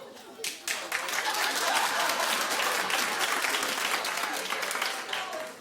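A talk-show studio audience claps loudly and continuously, a dense burst of applause that starts abruptly and holds steady before easing slightly at the end.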